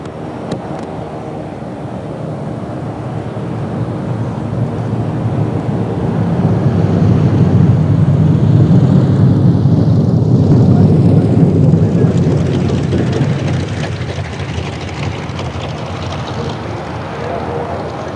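Vintage propeller airliners such as a DC3, DC4 and C121 Constellation taxi to parking spots at the RIAT 1998 airshow, a broad engine drone swelling louder mid-clip then easing, with wind noise and a voice talking over it.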